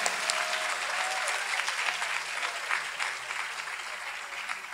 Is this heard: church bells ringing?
no